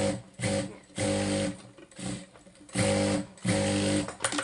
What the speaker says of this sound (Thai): เวลาเราเย็บลงไปก็กด